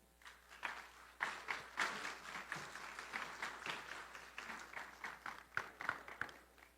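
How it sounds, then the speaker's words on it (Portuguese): Applause from a congress audience after a financial education talk, faint and somewhat distant, made of scattered claps that swell and thin out over several seconds. "Os aplausos falam"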